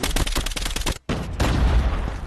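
Rapid automatic gunfire rattles in Call of Duty Mobile, a dense burst of shots, a brief pause, then more close, loud firing.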